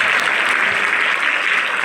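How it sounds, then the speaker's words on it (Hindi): An audience at an Arya Samaj stage event breaks into strong, steady applause, a dense uninterrupted wash of clapping throughout. "एक बार जोरदार तालियों से आप इन दोनों का"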